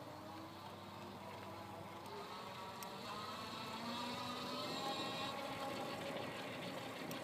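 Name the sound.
iZip E3 Ultra electric bike motor running with pedal assist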